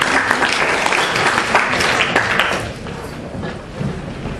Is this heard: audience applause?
yes